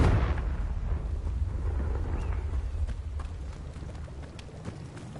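Confringo fire spell explosion in Hogwarts Legacy: a loud, sustained booming rumble that starts at full force and slowly fades over several seconds, with no talking.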